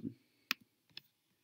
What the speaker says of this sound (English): I'll come in and I'll click on it